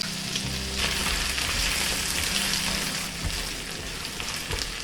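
Potatoes fry in oil in a pan with green onion, garlic and ginger, a dense, continuous sizzle with occasional stirring scrapes, close and steady throughout.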